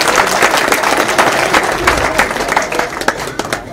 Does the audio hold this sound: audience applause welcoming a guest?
yes